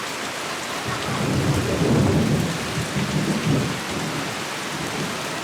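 A tropical thunderstorm pours heavy rain over a seaside village just south of the equator, with a dense steady roar of rainfall and deep rolling thunder swelling and fading, no voices.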